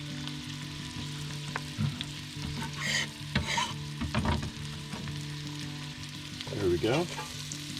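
Chopped soup ingredients hit a hot pan and sizzle steadily while being stirred, with scraping noises and a brief spoken remark over the frying.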